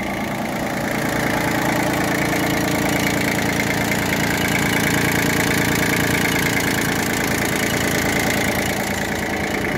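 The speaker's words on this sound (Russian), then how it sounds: "Двигатель работает отлично." An IHI IS12GX mini excavator's diesel engine idles steadily after a cold start, a constant loud, rumbling drone with a slight knocking texture and no voices.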